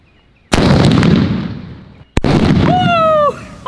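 Diwali firecrackers explode nearby in two sharp, loud blasts, the first with a long rumbling crackle that fades, the second followed by a rising whistling shriek that cuts off.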